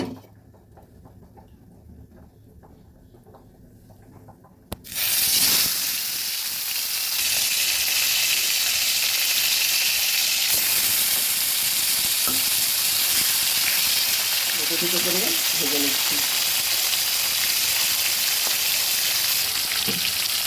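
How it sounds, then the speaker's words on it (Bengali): After a quiet start, pomfret fish drops into hot oil and a loud, steady sizzle takes over, hissing and crackling continuously close up. "এখন এক এক করে মাছগুলো ভেজে নেব"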